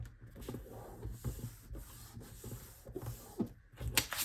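Paper is rubbed firmly to press Tyvek down inside a handmade junk journal, giving close, soft, repeated scuffing strokes at a steady back-and-forth rhythm.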